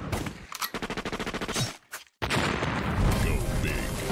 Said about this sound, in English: Like the sound of big booming 4v4 friend fragging action?